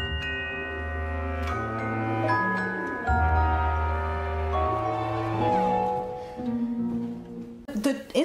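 Orchestral strings sustain layered glissando notes from Ravel's orchestration of Mussorgsky's Pictures at an Exhibition, sliding and shifting in pitch, with a creepy, airy texture and a faint sound at the close.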